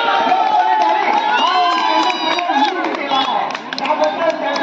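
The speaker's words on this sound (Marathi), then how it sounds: "तुम्ही टाळ्या वाजवा, टाळ्या वाजवा" Spectators at a local village premier league cricket match in Ratnagiri, Konkan, clap steadily together, mixed with cheering and excited voices throughout.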